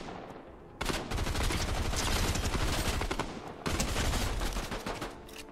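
A shotgun in the video game Fortnite fires in heavy, rapid bursts. Dense, loud volleys blast for about three seconds, pause briefly, then resume with a second burst.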